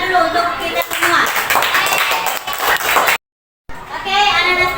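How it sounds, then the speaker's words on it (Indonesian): Children in an Indonesian classroom clapping together in dense, loud, sustained applause, broken by a brief silent gap before the clapping resumes, with a few voices mixed in. "jadi beri tepuk tangan dulu untuk kita semua"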